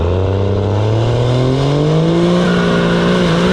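A truck engine pulls loud and close during a test drive, its steady drone rising smoothly in pitch as it accelerates through the gear.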